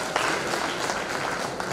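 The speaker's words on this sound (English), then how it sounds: "I think he deserves a round of applause" An audience at a university inaugural lecture claps together in a steady, dense round of applause that fills the hall without pause.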